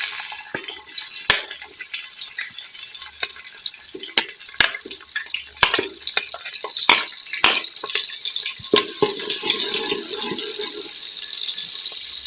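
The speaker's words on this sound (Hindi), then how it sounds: "अब हम इसमें डालेंगे कटे हुए प्याज" Chopped onions sizzle in hot ghee for a beef ojri curry, giving a steady, close frying hiss broken by frequent crackles and pops, with no talking.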